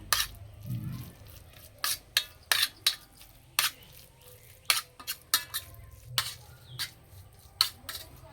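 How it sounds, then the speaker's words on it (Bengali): Cooled pumpkin paratha filling being mixed with roasted spice powder, heard as a series of sharp scraping and tapping clicks of a spoon against a bowl, close and irregular over a quiet background. "এবার ভাজা মশলা গুঁড়োটা দিয়ে দেব। ভালো করে একটু মিশিয়ে নেব।"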